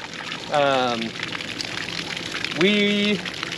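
Water leaks and dribbles from an NP Global portable water softener in a steady wet patter, with a person talking twice over it.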